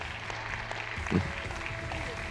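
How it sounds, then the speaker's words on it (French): An audience at a French stage event applauds as a woman walks on stage: a faint, steady wash of clapping that rises slightly midway, with voices around it. "Je vais vous demander d'applaudir Béatrice Tenus, qui va venir sur la scène"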